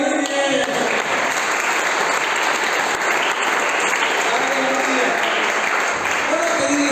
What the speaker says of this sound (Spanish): Ahora dale un aplauso al que vive, muy bien.